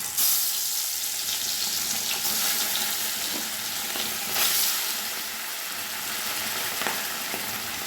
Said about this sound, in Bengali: এবার মাছগুলো একে একে দিয়ে দেবো